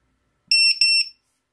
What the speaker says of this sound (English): They wouldn't know what to do to stop it from buzzing like that, from beeping.